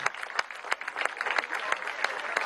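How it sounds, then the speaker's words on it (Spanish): Crowd at a political rally applauding, a brisk scattered patter of many hands clapping with distinct sharp claps standing out, fairly faint and somewhat distant. "Un aplauso a este muchacho."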